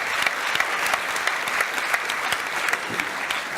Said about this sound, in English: A big round of applause for Max Rashbrook.